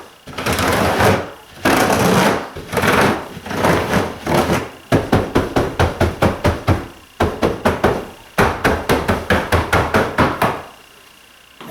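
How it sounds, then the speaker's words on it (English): Fingers rake repeatedly over a pleated dust collector filter, giving loud, close bursts of brushing and rattling. Long strokes come first, then a quicker run of sharp, rhythmic flicks. "the way you clean that filter is just by running your fingers over this"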